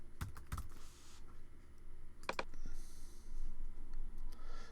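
Someone types a web address on a computer keyboard: a few quick clusters of soft key clicks, spaced out over a quiet room with a low background hum.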